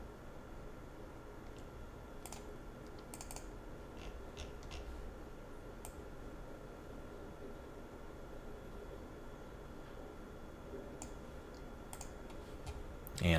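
A computer mouse gives a few faint, scattered clicks in short bunches against a steady low hiss, with no voices.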